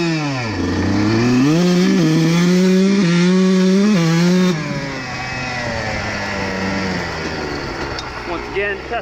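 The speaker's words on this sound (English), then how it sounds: "I'm gonna go through the gears a little harder, give it some throttle for sure" A dirt bike engine revs hard close by, pitch climbing and dropping as it shifts up through the gears, then settles into a lower idle.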